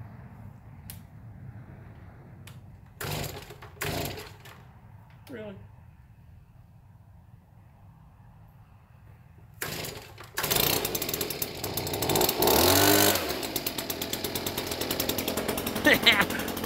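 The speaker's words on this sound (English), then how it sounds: "let me start my leaf blower real quick" A leaf blower engine is pull-started outdoors: several sharp cranking bursts and sputters, a quiet stretch, then the engine catches and roars loudly and steadily, with a voice speaking briefly between pulls.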